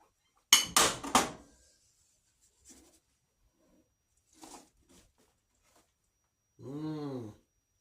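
Squash casserole being spooned into a bowl, with a few sharp clinks and scrapes of a spoon against dishes at close range, followed by quiet rustles and a short burst of speech.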